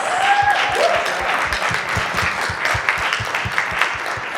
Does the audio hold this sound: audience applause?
yes